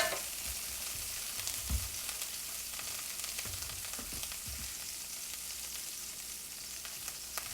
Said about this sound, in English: Putting a little bit more butter here on the skillet.